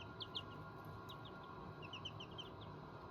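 Baby Ameraucana chicks peeping in short, high, faint chirps scattered over a steady background hum in a backyard garden.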